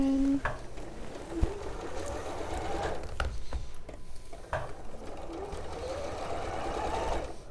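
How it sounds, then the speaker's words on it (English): A domestic sewing machine stitches fabric for a wrap dress in short runs with brief pauses, running close and fairly quiet, with a few small clicks. "let's sew over a pin there"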